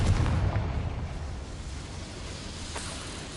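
A Confringo fire spell from Hogwarts Legacy bursts in a deep, booming explosion at the start, then decays into a low rumbling roar that fades over a few seconds.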